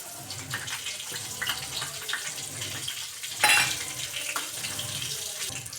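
Cumin and mustard seeds dropped into hot oil and ghee for a wheat upma, giving a steady close sizzle and crackle with a brief louder burst of spitting midway; no talking.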